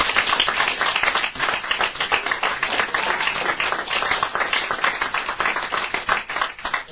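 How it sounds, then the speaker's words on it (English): A theater audience at a magic venue claps warmly for the magician Jerry Andrus, a dense, steady round of applause that holds at full strength throughout. "Let's have a warm round of applause"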